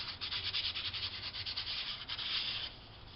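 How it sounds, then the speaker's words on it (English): Hand rubbing along the seam of a paper bag journal to press it flat: a close, steady series of quick, dry scuffing strokes with a papery, sanding-like texture, heard alone. "we'll just give this little seam here a rub"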